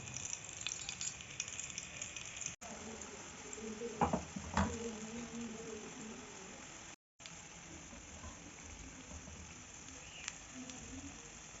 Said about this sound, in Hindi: अब ये डिप करके हम आलू इसी में डालते जाएंगे और फ्राई